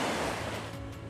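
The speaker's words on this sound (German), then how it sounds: "Vorsicht, Welle, Vorsicht." An ocean wave on the North Sea coast of Borkum island washes in as a loud, close, steady rushing surge of surf that fades slightly over about a second, with no talk.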